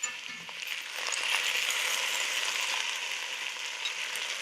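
Diced potatoes (aloo) frying in oil in a pan for a vegan Trinidad dish, giving a steady, fairly loud sizzle that keeps going without a break and has no voices over it.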